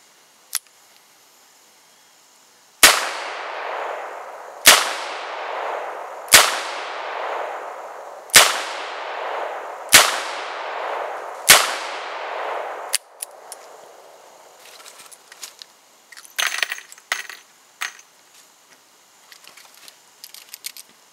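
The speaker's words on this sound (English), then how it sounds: "let's get to the shooting. Alrighty, let's start with the Ruger, and we'll start with the 38s." Six loud, evenly spaced shots from a Ruger .357 revolver loaded with .38 Special rounds, each crack trailing off in a long echoing ring, followed by scattered faint clatter and handling noises.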